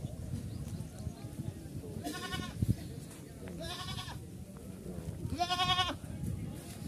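Barbari and Beetal goats bleat at a busy goat market in Rukhala, three separate wavering calls rising over low crowd murmur and background bustle.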